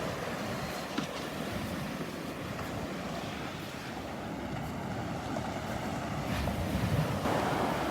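Ocean waves break and wash steadily along a Gulf beach at Delnor-Wiggins on a morning walk, with continuous surf and gusty wind buffeting the microphone throughout.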